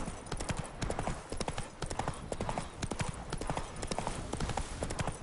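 Hooves of Roach, a horse in The Witcher 3, clip-clop in a steady rhythmic gait throughout, close and clear over a light outdoor game ambience, with no talk.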